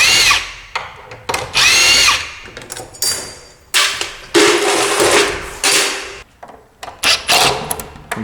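Power drill backing hinge screws out of a door hinge, heard as a series of short whirring bursts of varying length with pauses between, close and fairly loud, plus a few light clicks and knocks.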